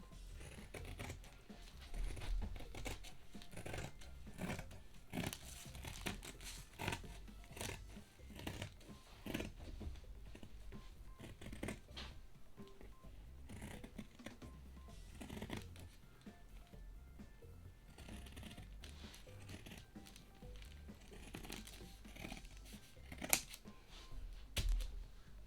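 Scissors snip steadily through a paper sewing pattern and fabric, a quiet, continuous run of crisp cutting and rustling close by, with no voices.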